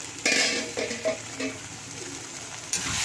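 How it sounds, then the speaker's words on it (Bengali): Spatula scraping and clattering as potato and cauliflower are stirred in a pan for aloo phulkopir dum, several uneven knocks and scrapes over a low background, with no speech. "নাড়াচাড়া করে শুকনো শুকনো হয়ে এসছে।"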